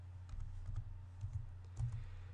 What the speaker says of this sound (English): I'm using a different keyboard.